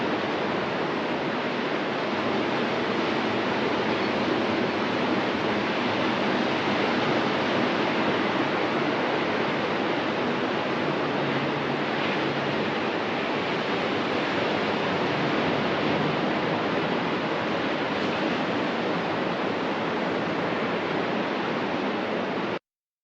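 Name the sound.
ocean waves heard from a balcony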